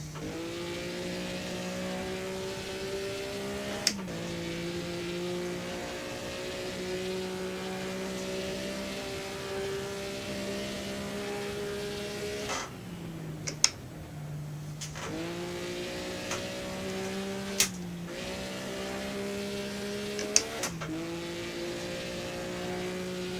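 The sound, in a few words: racing car engine revving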